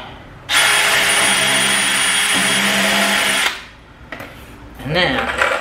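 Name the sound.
power drill pre-drilling wood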